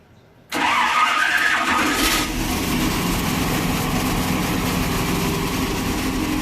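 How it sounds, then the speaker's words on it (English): A hot engine fitted with HEI ignition and a 602 advance lock-out kit cranks briefly, then fires and settles into a steady, loud idle that continues close and alone. "we're going to hit the starter, and then we're going to hit the ignition while it's rolling"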